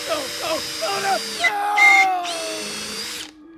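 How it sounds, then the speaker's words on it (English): A handheld power drill bores holes by hand through a small piece, its whine rising and steady for about two seconds, then pitching down, with clicks and handling noises before it and brief chatter around it. "So I'm just going to take these and I'm going to drill these by hand."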